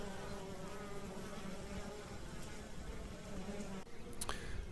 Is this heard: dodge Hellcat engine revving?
no